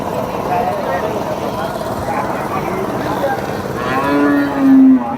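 Jersey cows lowing at a busy Monday cattle market in Vadod, Phulambri, with deep moos rising near the end over a constant crowd murmur and nearby voices talking.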